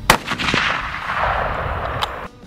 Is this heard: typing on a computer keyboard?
no